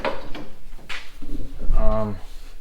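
A fabricated steel door, newly tacked together on a custom truck build, swings open and shuts with a light latch click and a metallic rattle, close by, with a voice briefly heard.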